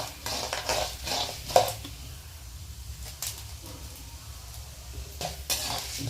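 A spoon stirs chow chow thogayal ingredients in a pan, giving repeated soft scraping and clinking strokes at a moderate distance with faint background noise.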